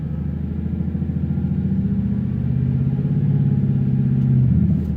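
A car engine idling then revving to about 2000 RPM, a close steady mid-pitched hum that rises and holds before easing off near the end, with no talking.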